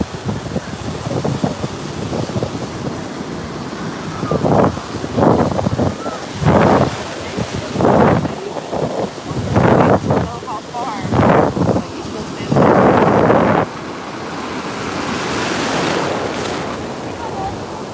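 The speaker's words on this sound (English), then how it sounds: "But it's just the waves." Ocean waves break on Cocoa Beach, Florida, in a series of loud rushing surges that swell and fade every second or two. Steady wind buffets the microphone underneath, and the surf grows into a broader hiss toward the end.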